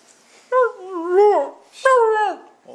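A dog howls on command in two drawn-out, wavering howls separated by a short pause, close and loud, with no talking over them.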